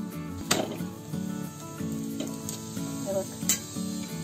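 A raw papaya paratha fries in plenty of oil on a pan, with a constant close sizzle and a few sharp crackles and spatters standing out now and then.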